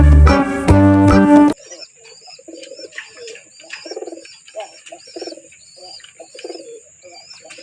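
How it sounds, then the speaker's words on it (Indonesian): Soft, repeated cooing from a dove, with chirps and calls in an outdoor setting, following a brief burst of music. "Dove."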